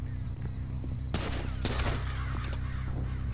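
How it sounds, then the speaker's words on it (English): Gunshots in a roleplay driving video game come as a few sharp bursts, loud and close, over a low steady rumble, with no speech. "Shots fired."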